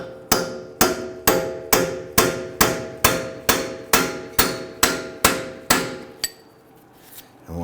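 A heavy-duty punch struck hard and steadily with a hammer to free an axle stuck in the splines of the wheel hub on a 2010-2019 Ford Taurus, a dozen loud ringing metallic blows in even rhythm, then a final lighter tap.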